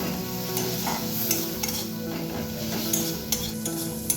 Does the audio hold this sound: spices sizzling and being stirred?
yes